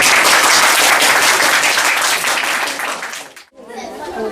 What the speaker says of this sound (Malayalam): എല്ലാവരുടെയും ഹാർദവമായ ഒരു കൈയടി കുട്ടികൾക്ക് ആവശ്യം.